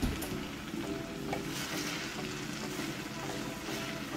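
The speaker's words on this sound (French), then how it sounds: "je vais ajouter mes kale et ça va cuire avec les tomates" Kale cooks with tomatoes in a pan, giving a steady, moderate sizzle and a soft, watery hiss with a few light clatters, and no voices.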